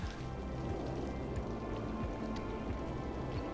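Steady rain falls in the city-building game Cities Skylines, an even, dense patter that holds constant throughout, with no voices over it.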